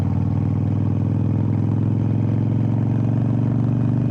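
A Harley-Davidson Iron 883 V-twin thumps out a steady, loud, close-up lumpy rumble that holds even throughout, with no speech over it.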